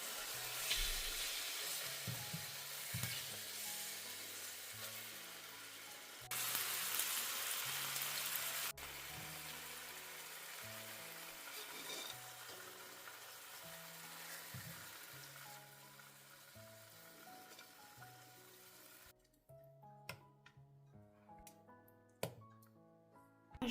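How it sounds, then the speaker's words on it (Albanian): Chicken fillets fry in hot oil in a pan for an iftar dish, giving a steady, continuous sizzle and crackle throughout with background music underneath. "I fërgojmë për disa minuta në të dy anët derisa të skuqen mirë filetat e pulës."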